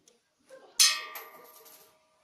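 A thrown coin strikes a bronze temple bell, giving a single bright metallic clang that rings and decays over about a second, preceded by a faint soft knock.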